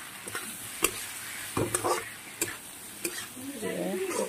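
Boiled potatoes with turmeric, salt and spices fry in oil in a pan. A spoon scrapes and stirs in several distinct strokes over a low sizzle, and a voice speaks briefly near the end.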